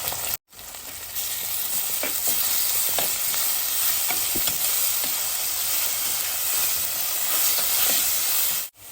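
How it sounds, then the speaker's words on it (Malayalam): Crushed ginger and garlic hit hot oil in a pan for a mushroom roast, giving a loud, continuous close sizzle with faint stirring scrapes and no voices. "നമുക്ക് ചതച്ച് വെച്ചിരിക്കുന്ന ഇഞ്ചിയും വെളുത്തുള്ളിയും ചേർത്ത് കൊടുക്കാം"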